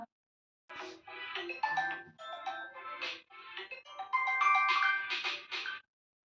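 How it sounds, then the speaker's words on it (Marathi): A melodic electronic phone ringtone plays a repeating tune in short bursts, fairly loud and close, then stops abruptly. "माझ्या लिखीचा फोन आलाय"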